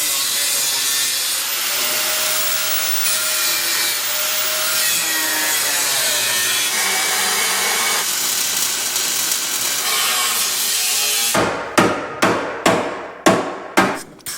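Metal suspension parts are cut for welding, a loud continuous abrasive grinding that runs steadily for about eleven seconds, then gives way to a series of sharp, evenly spaced impacts.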